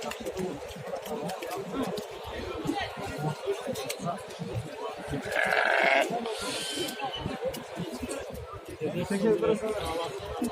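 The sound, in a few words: goats bleating at a livestock market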